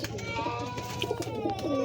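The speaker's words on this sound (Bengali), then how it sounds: "সব গিরিবাদ লাইনের পায়রা" Several Giribaz pigeons coo in low, throaty bursts over a steady background hum, with some faint chatter mixed in.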